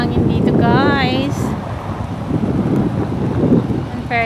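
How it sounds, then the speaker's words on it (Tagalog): Strong wind buffets the microphone with loud, rumbling gusts, while a voice briefly speaks near the start. "mahangin dito"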